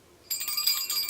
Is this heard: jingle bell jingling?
yes